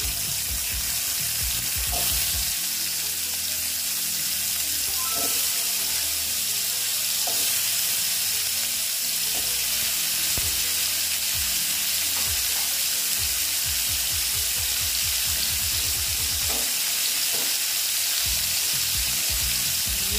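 Pieces of spiny gourd coated in salt and turmeric hiss loudly in hot oil in a kadai, a continuous close sizzle broken by bursts of rapid clattering and occasional metallic clinks.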